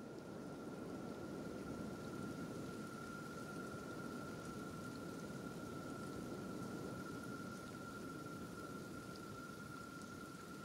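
Acid rain in the video game Kenshi falls as a steady, dense rain hiss with a constant faint tone running through it, uninterrupted for the whole stretch.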